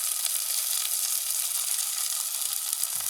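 Spices with fenugreek and fennel seeds sizzle and fry in hot oil in a pan for a village-style crab curry, a steady close, continuous hiss with no voices.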